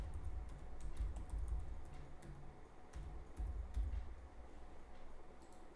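Fingers tap out a password on a computer keyboard in quick, uneven bursts of soft clicks with short pauses between, close and fairly quiet, with no voice.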